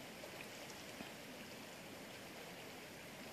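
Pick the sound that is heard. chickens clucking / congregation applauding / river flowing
river flowing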